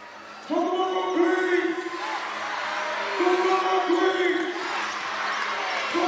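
Crowd noise fills an indoor arena during a women's professional basketball game, a steady roar of cheering and whoops swelling and easing in waves with no clear break.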